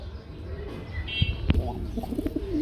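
Grizzle pigeons cooing close by, a few low soft coos with faint chirps and background bustle, with voices murmuring faintly under them.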